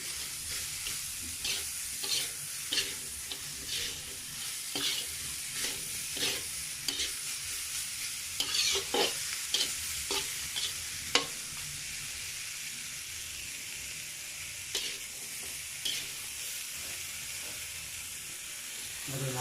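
Bean sprouts for lumpiang togue being stir-fried in a pan, with a steady sizzle and hiss broken by repeated scraping stirs of the spatula, close and fairly quiet, with no talk.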